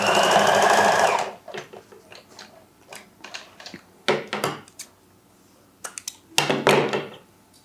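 Sewing machine stitching a narrow lace trim onto fabric, a steady close whirring run for about a second, then short start-stop bursts and clicks of the needle.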